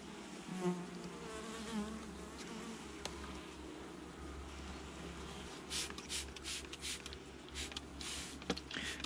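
Honeybees buzz steadily in an opened hive during a November inspection, a dense continuous hum with swelling and fading wingbeat noise, close and moderately loud, no talking.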